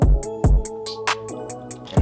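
A rapid drum roll of crisp, evenly spaced hits in a trap beat, bridging from a heavy kick into a clap over sustained synth tones, loud and busy with no voices.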